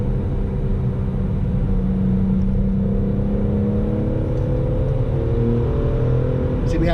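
A BMW E46 M3 with a manual gearbox accelerating hard over rough pavement, a steady loud engine drone with rising harmonics and heavy low road rumble throughout, heard from inside the cabin.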